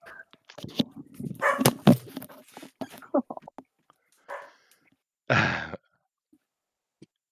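Dog making short yips, whines and a huffing sigh, mixed with brief close sounds, in scattered bursts with pauses between them.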